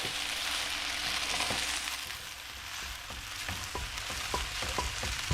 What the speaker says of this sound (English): I know when I play back a lot, you'll hear like it's really sizzling